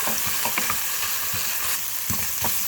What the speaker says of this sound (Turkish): Kavurma işlemimize devam ediyoruz. Kıymamızın içerisine kırmızı toz biberimizi ilave ediyoruz. Karıştırıyoruz